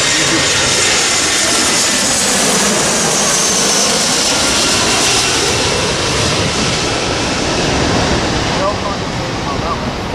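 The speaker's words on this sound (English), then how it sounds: "Right here's the Virgin America coming in" A Virgin America airliner roars in on approach to LAX, a loud, broad jet-engine rumble that fills the air continuously and eases slightly toward the end.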